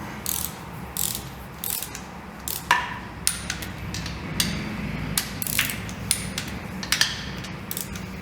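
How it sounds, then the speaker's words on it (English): A torque wrench ratchets as bolts are tightened on a Ford SVT Contour's intake manifold: repeated short clicking pawl bursts in an uneven rhythm, close and fairly clear over low shop background noise. "Get your torque wrench, tighten everything up."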